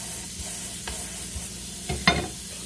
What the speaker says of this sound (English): Oh, sizzle.